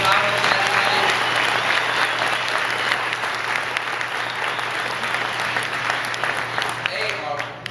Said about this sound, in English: Another round of applause for Jesse Egan and Taylor Collins.